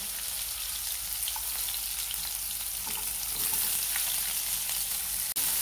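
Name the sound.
onion frying in a pan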